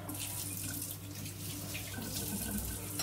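A kitchen or sink tap runs in a steady, quiet stream while water is drawn for drinking, a continuous soft hiss with no voices.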